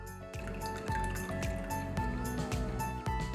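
Cooled, thickened milk is poured and scraped from a vessel into a bowl, giving soft wet plops and drips with a few knocks of a spoon against the rim.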